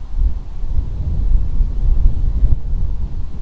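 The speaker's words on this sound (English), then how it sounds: "So the wind is actually coming towards me." Low, rumbling wind gusting about 4 to 7 mph buffets the microphone in uneven gusts during a DJI Mavic Air 2 drone flight, a heavy roar that swells and eases without pause.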